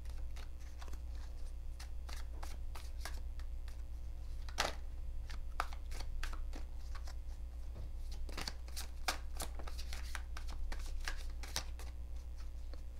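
Tarot cards shuffled close up, a steady run of quick papery riffles and flicks, with louder snaps scattered throughout and a low hum underneath, no voices.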